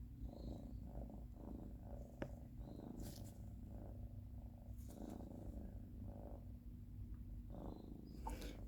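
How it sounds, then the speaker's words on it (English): A cat purrs close up, a soft rumbling rhythm that rises and falls with each breath, continuing steadily throughout. "She's so loud when she purrs."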